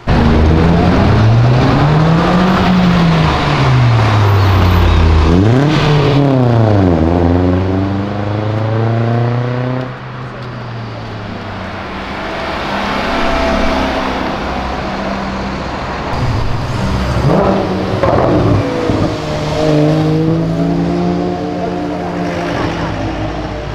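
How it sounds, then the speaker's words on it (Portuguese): A Mini Cooper accelerates past on a city avenue, its engine note rising and falling as it sweeps by, among other cars revving in traffic and people talking. "Passa um Mini Cooper aqui"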